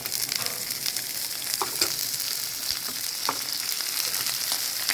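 Broccoli and other vegetables fry in a hot pan, giving a steady, bright sizzle with occasional stirring clicks and scrapes, close and moderately loud with no talking.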